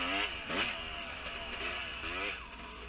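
A dirt bike engine in a hare scramble race revs and rises in pitch in two or three bursts, close and fairly loud, with a steady engine drone between them.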